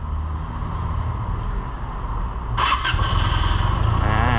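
A 2019 Benelli 302S motorcycle engine idles with a steady low throb, then a sharp rise as the throttle is blipped, settling into a louder, rougher running rumble close by with no talk.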